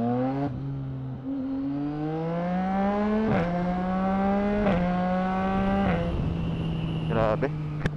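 A Ducati Monster motorcycle accelerates hard, its engine note climbing through several gear changes with brief dips between shifts, loud and close throughout.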